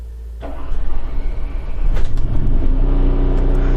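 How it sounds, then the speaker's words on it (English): The generator of a 2023 Entegra Qwest 24R RV cranks and catches at about half a second, then settles into a steady, loud rumbling hum that builds slightly and continues to the end. "So I'm going to turn the generator on by holding start here."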